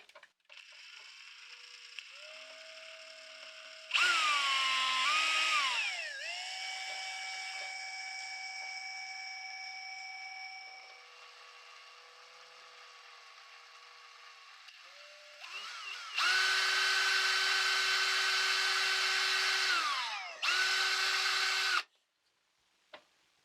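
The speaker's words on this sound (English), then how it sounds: "Try to drill a little hole." A small drill whirs at high pitch in several bursts, boring a little hole in a broken saxophone-player figurine, the tone dipping as it bites, with pauses between runs; close and fairly loud.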